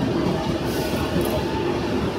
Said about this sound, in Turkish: Bir tren gidiyor, bir tren geliyor.